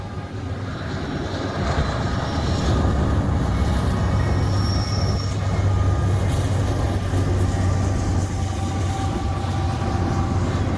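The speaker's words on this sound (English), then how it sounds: "it's a mixed freight with some tankers and some grainers and even an auto rack" Mixed freight train of tank cars, grain hoppers and an auto rack pulled by BNSF, CSX and Canadian National locomotives rolling through a Lincoln, Nebraska quiet-zone crossing, a loud, steady, close rumble of wheels and cars with no horn.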